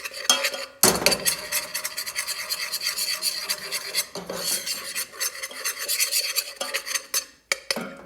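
Flour being stirred into melted butter in a pan for a cheesy leek dish, a steady rasping scrape of the spoon that runs near-continuously for about eight seconds with a few brief pauses.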